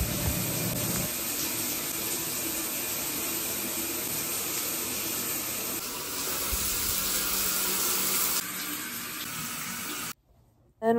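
Shower water runs in a steady, even hiss at close range for about ten seconds, then cuts to near silence just before the end.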